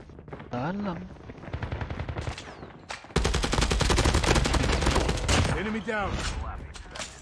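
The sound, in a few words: gunfire in the video game Call of Duty Mobile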